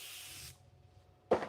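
An airbrush sprays paint in a quick, soft hiss lasting about half a second, then cuts off into near silence. A small knock follows.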